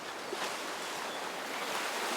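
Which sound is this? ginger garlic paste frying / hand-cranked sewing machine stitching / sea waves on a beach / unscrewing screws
sea waves on a beach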